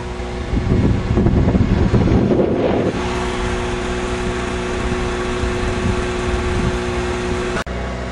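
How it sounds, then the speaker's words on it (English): Strong outdoor wind of about 16 to 20 miles per hour buffets the microphone with a loud, continuous low rumble and roar, heaviest in the first few seconds, then steady until a brief dropout near the end. "It's about 16 to 20 mile per hour winds."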